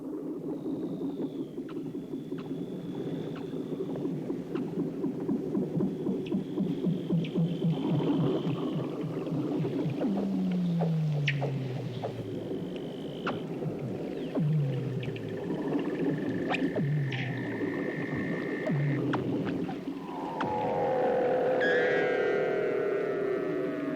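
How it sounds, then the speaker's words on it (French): Weddell seals sing under Antarctic sea ice, a long series of eerie descending trills, chirps and whistles echoing in the water, some calls near and others distant, with no talking. "Sous la banquise, les chants des phoques résonnent à l'infini."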